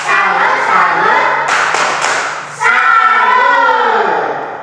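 A group of children shout the rhythmic 'tepuk salut' clapping chant together in a classroom, their voices loud and close, with a short break in the middle before the chant starts again.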